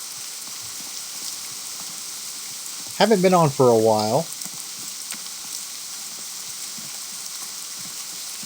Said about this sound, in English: I do always kind of like the rain and the atmospheric effects that are in the game